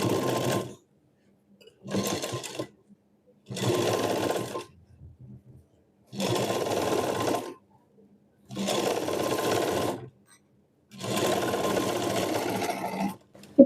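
A sewing machine stitching a blouse runs in six close, steady bursts of whirring, each a few seconds long, separated by brief silent pauses.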